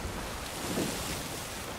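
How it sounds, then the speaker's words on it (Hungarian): In the Sea of Thieves video game, water washes over a ship's deck in a continuous broad rushing hiss, with wind and ocean surf blended in and no talk. "és itt folyik a víz a fedélzeten"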